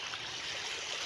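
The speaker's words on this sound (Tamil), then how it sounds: "தண்ணி இப்படி கூடி வருகிறது." Rainwater flowing and gathering along a path, a steady soft trickling rush, close and continuous with no voices.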